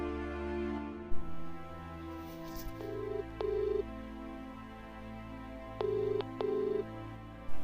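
Soft electronic beeps from a phone keypad sound in short pairs, with a quiet hum and faint background noise.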